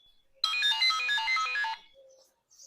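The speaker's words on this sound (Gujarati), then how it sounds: "શેનો ફોન આવે?" A phone ringtone plays a bright, rapid electronic melody for a little over a second, clear and close, then cuts off into near silence.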